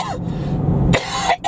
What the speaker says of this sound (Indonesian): saya langsung batuk saking kerennya